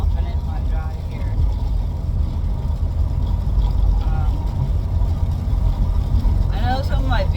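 Tires roll over a wet winter road inside a moving car, giving a loud, steady low rumble and hiss that continues without a break, with faint brief voice sounds near the end.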